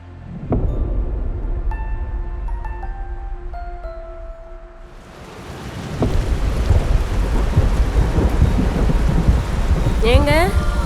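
Thunder rumbles low and heavy as rain begins, a steady hiss of falling drops swelling to a loud downpour on the surfaces nearby, with a tonal chime passing early on and no one speaking.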